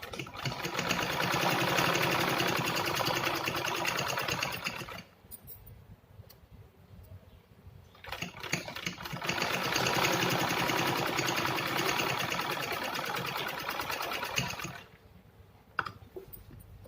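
A sewing machine stitches a fabric strip onto a cloth organizer in two long, steady motor-driven bursts separated by a brief pause, close and fairly loud with no talking.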